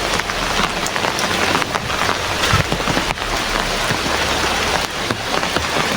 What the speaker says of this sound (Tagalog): Talagang grabe yung ulan ngayon.